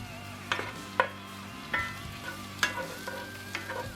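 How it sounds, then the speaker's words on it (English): Sliced mushrooms are stirred in butter, garlic and onion in a pan, a steady close sizzle with a spatula knocking sharply against the pan every half second or so. "Stir them around a bit in that butter and garlic and onion mixture"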